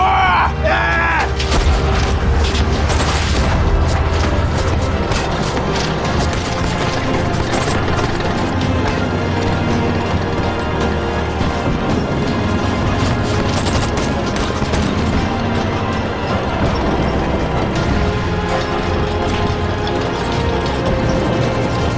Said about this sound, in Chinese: 开火！